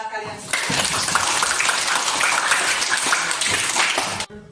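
Students in a school clap their hands together in dense, steady applause that starts suddenly, carries on for about four seconds at close range, then stops.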